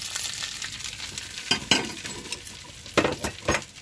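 Hot oggarane tempering hits vegetable and greens melogara with a loud sizzle, broken by sharp bursts and metal clinks of a ladle against the pan, nearby with no voices.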